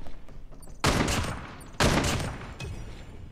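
Gunfire in Call of Duty Mobile gameplay comes as two loud, close bursts of rapid automatic shots about a second apart, each trailing off, with quieter game sounds between them.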